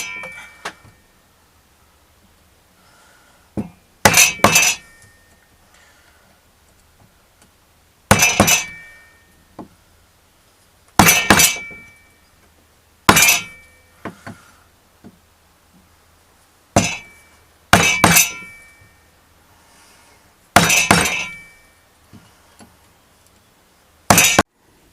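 A steel wood chisel is struck repeatedly to mark shoulder lines in wood at a woodworking bench. Sharp, bright, ringing hits come in pairs and clusters, separated by quiet gaps.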